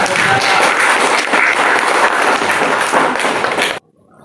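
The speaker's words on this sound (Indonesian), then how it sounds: "beri tepuk tangan untuk" Classroom group applause during a teaching session, loud and sustained dense clapping close by that stops abruptly near the end.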